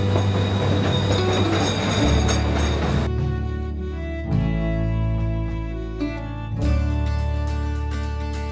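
A train crosses an Alaskan mountain railroad with a continuous rumble and clatter of wheels on track, shifting in tone as it rolls, with steady rail noise throughout and no voices.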